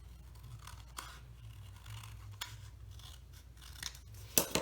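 Scissors snip through a paper gift tag in a few quiet, close cuts, with a sharper closing snip near the end and a low background hum underneath.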